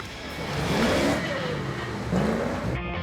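A powerful, high-horsepower movie car's engine rumbles, then revs in two rising surges with a steady growl between them, close and loud, cutting off abruptly at the end.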